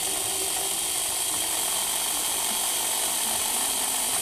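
A Tyco HP7 slot car motor spinning on a dyno, a steady high-pitched electric whine with constant level and no breaks, heard alone.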